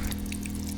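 Water pours steadily into a container at an off-grid bathhouse under construction in the woods, a brief, continuous, fairly loud rushing sound close by.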